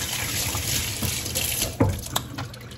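Warm tap water runs into a sink for face washing, a steady close splashing stream with a few brief knocks and drips near the end.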